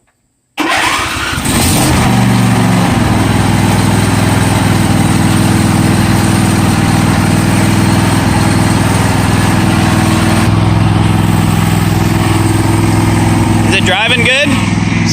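A John Deere riding lawn mower engine cranks and catches after a moment of quiet, then runs loud and steady at close range with a droning hum and a brief change near the end.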